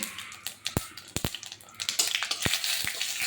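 Bay leaf and a little cumin hit hot oil for tempering in a curry, giving a bright crackling sizzle with several sharp pops and spits scattered through the short stretch.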